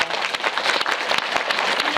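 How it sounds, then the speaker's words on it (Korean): Dense, steady applause from a theater audience fills a short stretch at a Parasite movie talk event with director Bong Joon-ho and the cast, many hands clapping close and loud with no talking. "박수 부탁드립니다"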